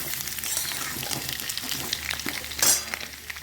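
Papaya and carrot fry lightly in a pan, making a continuous close sizzle with crackling pops and scraping stirs, plus a brief clink of a utensil against the pan near the end.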